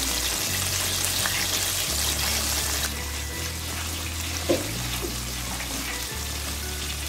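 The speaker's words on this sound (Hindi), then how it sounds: "हम इनको लो फ्लेम पे 5 से 10 मिनट के लिए फ्राई करेंगे।" Crumbed chicken pieces fry in oil on a low flame, giving a steady, moderate sizzle and soft bubbling hiss over a low hum, with an occasional small clink and no voices.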